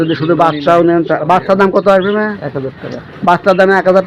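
Pigeons coo in short throaty phrases at a busy pigeon market, close by and mixed with people talking.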